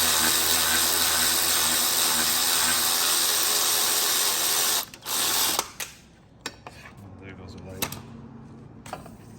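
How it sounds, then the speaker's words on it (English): An electric ratchet loosens a bolt on a Lamborghini Huracan, running as a loud, steady whir for about five seconds before cutting off, followed by scattered clicks and handling noises. "I'll just try my electric ratchet on it."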